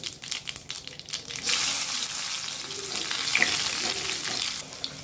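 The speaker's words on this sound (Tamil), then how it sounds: "இப்போ எண்ணெய் சூடாயிடுச்சு கொஞ்சமாக கடுகு கொஞ்சம் சீரகம் இது பொரிஞ்சதும்" Mustard seeds and cumin sputtering in hot oil, with crackling pops over a steady broadband hiss that swells after the first second and holds close and fairly loud.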